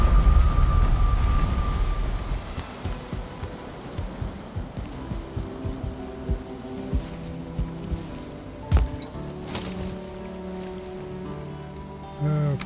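In the video game Valheim, rain hisses steadily with a low rumble of thunder, then fades under soft rhythmic thumps and tonal game sounds, with no one speaking.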